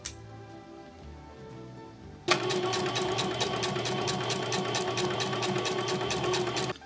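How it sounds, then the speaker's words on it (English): A sewing machine stitches shorts fabric with a fast, steady mechanical chatter. It starts abruptly after a quiet room moment and runs continuously and loudly at close range. "I'm literally just gonna sew until this runs out"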